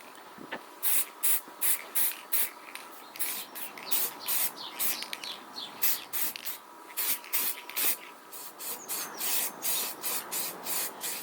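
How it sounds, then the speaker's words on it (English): Silver base coat is spray painted onto a Yamaha TDM 850 motorcycle swingarm, heard as a series of short, close aerosol hisses in quick repeated bursts with brief pauses between. "After that's dried, the next coat is the silver then. That'll be the base coat."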